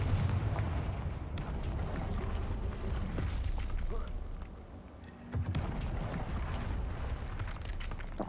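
A Confringo spell blast in a Hogwarts video game lands as dull booming bursts over a rumbling backdrop, with a quieter gap midway before another blast.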